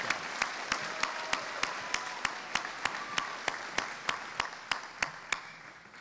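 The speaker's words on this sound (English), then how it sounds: "One more round of applause for the Suzanne Johnson Memorial Endowment." Audience applause at a community foundation scholarship night, a steady wash of clapping with sharp, evenly spaced claps standing out for about six seconds, then tapering at the end.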